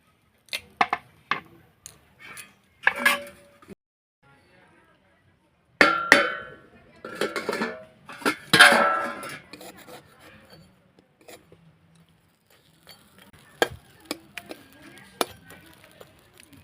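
Eggplant pieces set one at a time into a dry pan with no oil, giving scattered light clinks and scraping rasps in bursts, with quiet gaps between and a voice talking over parts.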